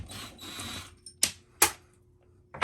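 A drill driving a stubborn screw with a DeWalt bit during a vintage Gillig bus conversion remodel: short motor bursts, then sharp clicking pulses and a final buzz, close by, separated by brief pauses.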